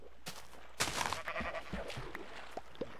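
A sheep bleats in Minecraft, a couple of short wavering calls amid soft thumps and ambient sound.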